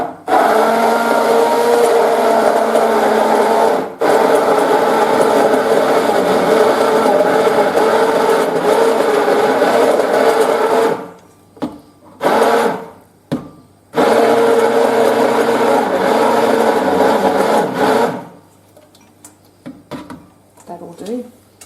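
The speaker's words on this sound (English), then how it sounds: "with this stab mixer we call it" A stab mixer purées a mushroom recipe with a loud, steady whirring drone, broken off into short stop-start bursts and brief pauses toward the end.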